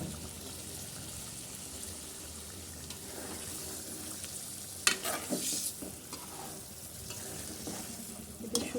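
Magur and pangas fish being stirred and fried in a pan, a steady close sizzle with scraping stir strokes that grow louder and clatter toward the end.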